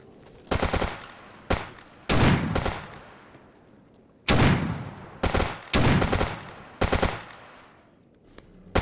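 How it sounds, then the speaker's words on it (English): Automatic gunfire aimed at a tree in the video game Escape From Pripyat comes in loud, rapid bursts of several shots each, separated by short silences. "You're shooting a tree, mate."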